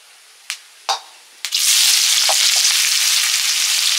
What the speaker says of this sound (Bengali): সর্ষের তেল দিয়ে শুকনো লঙ্কা দিলাম